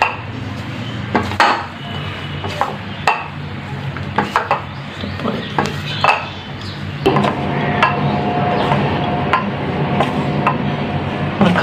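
Monakka dough being kneaded and mixed by hand in a bowl, with repeated soft slaps and knocks against the vessel and faint scraping, moderately loud and close, with no speech.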